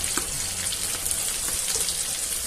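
Chicken fillets in breadcrumbs fry in oil that has already been used, a close, busy crackle and sizzle with small pops, heard alone for a couple of seconds.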